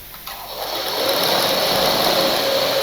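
Sewing machine stitching a blouse, starting up and settling into a loud, steady, fast mechanical whir that runs on alone without a break.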